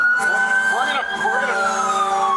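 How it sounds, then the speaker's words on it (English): Emergency vehicle sirens wail continuously and loudly, with overlapping rising and falling tones over traffic noise throughout the short stretch. "we got the sirens going crazy"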